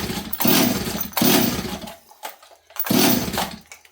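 A Stihl 026 chainsaw being cranked with its pull cord, three rough, sputtering bursts that catch briefly and die away between pulls, close up and loud without talk.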